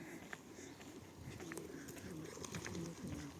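Pigeons coo softly in low, rolling bursts, several birds close together, with faint background ambience and occasional light clicks.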